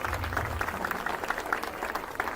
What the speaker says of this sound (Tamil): பலத்த கரகோஷத்தை எழுப்புமாறு கேட்டுக்கொள்கிறேன்